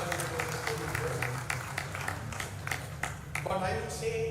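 An audience applauds at a felicitation ceremony for an alumnus at Osmania University College, a steady crowd clapping that runs throughout at moderate distance, with a voice talking over it.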